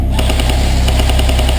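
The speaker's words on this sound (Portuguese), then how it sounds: "Muito tiro, velho!" Airsoft guns fire at an outdoor warzone game in a rapid, unbroken stream of close, loud automatic shots that lasts throughout.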